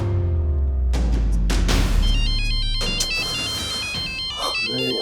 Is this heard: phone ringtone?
yes